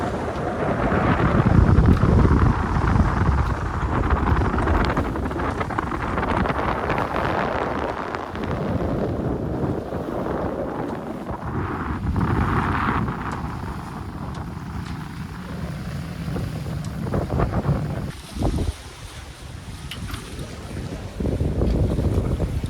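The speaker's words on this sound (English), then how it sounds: "Sailing like this, engines off, just wind and water," Sailboat running downwind in the Bahamas with engines off: steady wind buffeting the microphone over rushing, splashing water along the hull, continuous and fairly loud with brief gusty dips.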